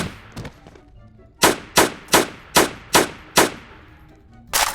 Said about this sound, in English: there is a officer's rifle with 10 bullets, and boom